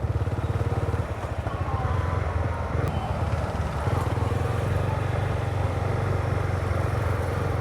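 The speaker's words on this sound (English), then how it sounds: "this is a 300cc motorcycle, it doesn't quite feel like it one" A Honda 300cc motorcycle engine drones steadily while riding, a constant low rumble with wind noise sustained throughout at close range, with no talking.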